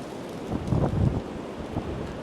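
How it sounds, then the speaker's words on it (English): Strong wind gusting through trees on a hillside, a steady broadband roar and rumble with a swell in the middle, buffeting the microphone, no voices. "It is just got really windy."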